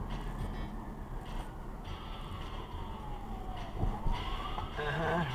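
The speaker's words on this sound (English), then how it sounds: "Fire engine, fire engine, fire engine, fire engine." A fire engine siren wails in Boston traffic, its tone sweeping down and back up as the truck passes at moderate distance, with road noise and brief spoken remarks from inside the car.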